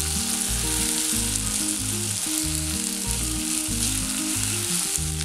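Sabudana (tapioca pearls) and tomato frying in oil in a pan for khichdi give a steady, loud broadband sizzle, with a low tonal hum running beneath it throughout and no speech.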